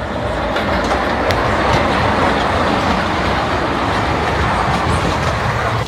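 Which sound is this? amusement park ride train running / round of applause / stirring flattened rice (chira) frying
amusement park ride train running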